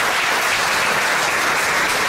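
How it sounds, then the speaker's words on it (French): Steady, dense audience applause fills the entire short stretch at the inauguration of a production studio at Karukéraland in Guadeloupe, loud and even with no talk over it. "Vous pouvez les applaudir."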